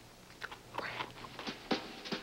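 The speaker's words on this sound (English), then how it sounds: "These flakes are crunchy." Kellogg's Frosted Bran cereal flakes crunched while eating, several crisp close bites in an uneven rhythm, with no talking.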